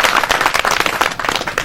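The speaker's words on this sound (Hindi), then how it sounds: "उन तमाम लोगों के लिए आप लोग तालियां बजाओ" Crowd applause at a tribal culture gathering in Botarde, a dense burst of many hands clapping loudly and continuously.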